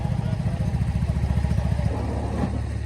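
A small gas riding mower engine runs steadily close by, its low rumbling chug pulsing evenly with a rattly edge, then dipping slightly in tone near the end.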